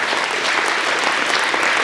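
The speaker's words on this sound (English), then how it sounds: "let's give those guys one last round of applause" Dense, steady applause from an audience at a school winter awards ceremony, many hands clapping at once and filling the room evenly for the whole stretch, with no voices rising above it.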